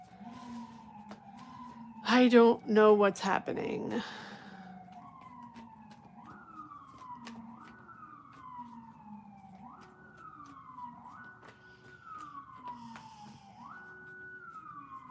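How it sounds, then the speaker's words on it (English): Wailing sirens rise and fall repeatedly in the distance, with a brief burst of louder yelping siren early on and a voice speaking briefly over it. "Oh my goodness, these sirens."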